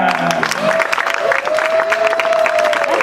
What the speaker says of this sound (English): we pause for applause for Mr. Jeff Harmon